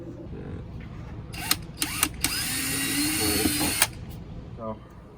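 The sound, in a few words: power drill driving screws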